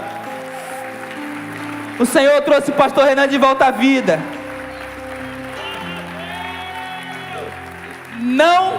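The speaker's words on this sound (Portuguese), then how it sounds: "Você pode aplaudir ao Senhor" A church congregation applauds in a burst of clapping lasting about two seconds, mixed with a preacher's amplified voice speaking in Portuguese. Room tone and quieter talk fill the rest of the clip.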